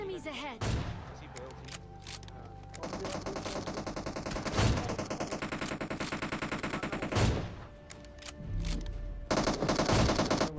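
Rapid gunfire bursts from a PUBG mobile match, including AWM sniper rifle shots, crack in loud repeated volleys with short pauses between, while a voice talks over parts of the action.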